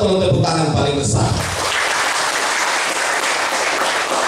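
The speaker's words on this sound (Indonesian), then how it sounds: "Yang merasa paling bahagia saat ini dalam perayaan Natal, tolong tepuk tangan paling besar." A congregation at a Christmas service breaks into loud, full applause, a dense roar of many hands that takes over right after a voice and holds strongly to the end.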